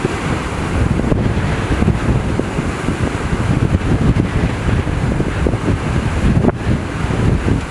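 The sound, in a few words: ocean waves crashing at South Point, Big Island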